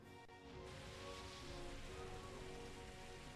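Steady rain hisses and patters in a Pokémon game, a dense, even wash of falling drops that continues alone from start to finish.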